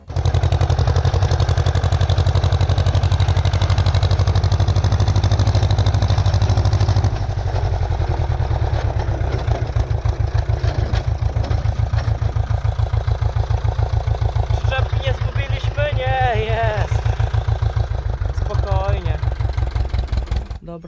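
Tractor, a Ursus C-330, running close and loud with a heavy rumbling idle, then rhythmic chugging as it drives off, with speech over the engine.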